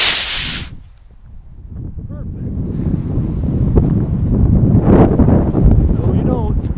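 An Apollo Little Joe II 1/48 scale cardstock model rocket on a C11-5 motor lifts off with a loud roaring hiss lasting under a second, followed by steady outdoor wind buffeting the microphone.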